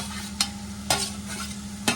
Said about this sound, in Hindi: जो ये छिली हुई फली है वो इसके अंदर डालनी है और मिक्स कर देनी है